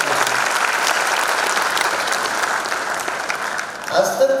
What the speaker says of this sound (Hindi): एक बार जोरदार तालियां इस सुमधुर पल के लिए।